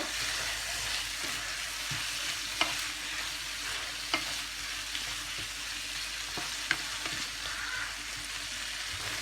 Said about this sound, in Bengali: এই টমেটোটা দিয়ে দিব আবার একটু নেড়ে চেড়ে নিব